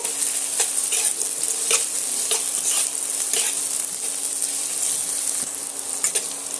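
Onion, bay leaf and dried chillies fry in a pan with a strong, constant high sizzle, while a spoon stirs in even strokes that scrape against the pan, close and loud, with no talking.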